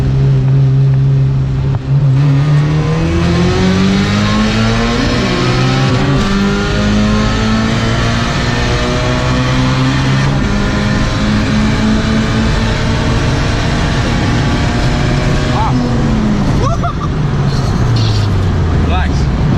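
A fast car with a K20a2 engine pulls hard and loud from inside the cabin. The engine pitch climbs steadily through a long gear and then drops off near the end, and people talk over it.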